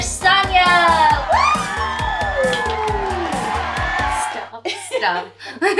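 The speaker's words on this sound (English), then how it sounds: "give a round of applause for Saaniya." Excited cheering, whoops and shouting from a small group, high and youthful, rise over loud upbeat music to open a home cooking show, then drop away near the end.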